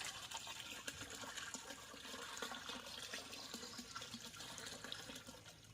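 Soil solution is poured through an ordinary sieve into a bucket, giving a continuous, faint, steady splashing trickle of liquid with no voices.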